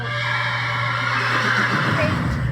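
A racehorse gives a loud, drawn-out whinny close by in a stable area before tacking, its wavering call filling the short moment while a person speaks softly alongside.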